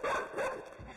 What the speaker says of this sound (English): That dog is coming.